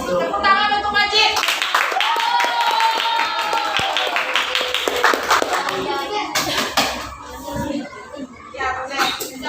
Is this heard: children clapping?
yes